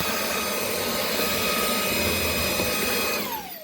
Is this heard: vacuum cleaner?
yes